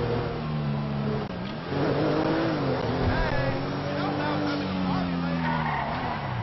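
A Mustang GT500 in GTA 5 drives steadily with a continuous engine drone and tire noise, the pitch rising and shifting as it accelerates, with talk over it.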